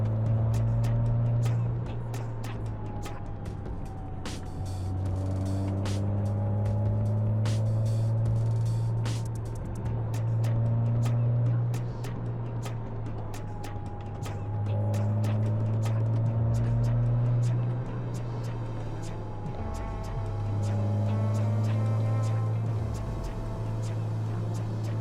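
Porsche 986/996 engine idling steadily while warming up, a deep continuous low rumble with slight fluctuations in pitch, close and alone without talk.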